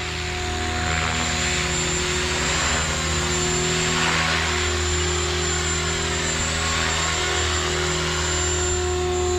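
A Synergy 516 RC helicopter flies nearby, its rotor and motor giving a steady, loud buzzing drone with strong constant tonal hum, unbroken for the whole stretch.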